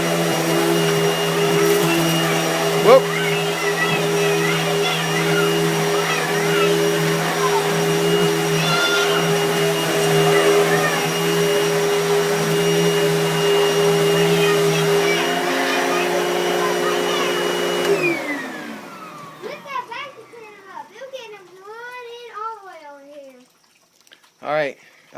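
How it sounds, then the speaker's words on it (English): A household vacuum cleaner runs loud and steady with a constant drone for most of the stretch, then shuts off and winds down, leaving brief voices and scattered noises. "Now, if I start using the vacuum cleaner,"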